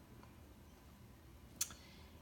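A single quiet mouse click on a Next button, one short, sharp tick standing alone against a faint room hush.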